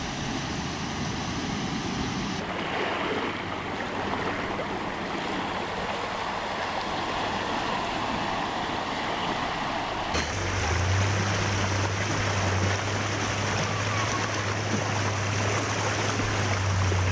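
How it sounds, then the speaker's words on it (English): Fast, shallow creek water on the Old Telegraph Track in Cape York rushes steadily, and a low vehicle drone grows louder partway through. "The water here isn't deep, but as you can see, it's fast."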